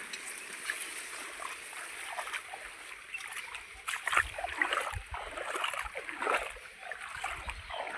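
Irrigation water pours into a guinea grass field on a farm, a steady rushing flow broken by close splashes and gurgles that swell in the second half.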